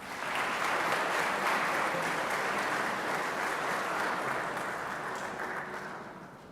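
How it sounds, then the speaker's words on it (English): Sustained applause from an audience at a school awards assembly, a steady dense wash of clapping that holds for several seconds and tapers slightly at the end. "How about another round of applause?"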